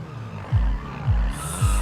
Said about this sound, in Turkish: Tadında bir egzoz oldu.